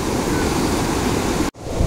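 Flood-swollen Koyileri river rushing after heavy rain near its bridge: a loud, close, steady roar of churning water with wind buffeting, broken by a brief dropout near the end.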